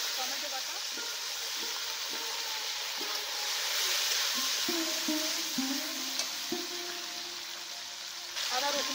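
Tomato paste, together with onion paste, fries in hot oil for a prawn malai curry, giving a soft, steady sizzle with light scraping stirs and small clinks close by.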